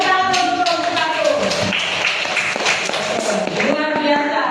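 Students in a teacher-training class in Semarang clap for a discussion group, a lively spatter of hand claps mixed with voices and cheering from the room.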